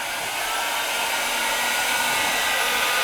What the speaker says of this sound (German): Wir können es auch föhnen.